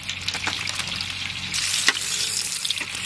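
Bay leaves sizzle in hot mustard oil in a kadai, a close, steady crackling fry with small pops and stirring scrapes throughout.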